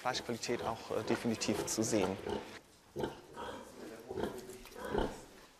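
Pigs grunting on a farm, a dense run of close, rough snorts and oinks with short pauses, heard beneath a person talking.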